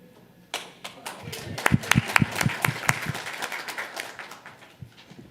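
Audience clapping at an informal public session, a burst of applause starting abruptly with sharp, uneven claps that peak early then settle into a steady patter from a modest crowd in a meeting room.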